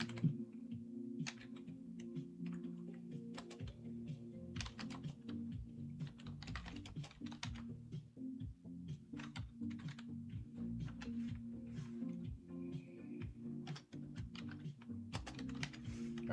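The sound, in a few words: typing on a computer keyboard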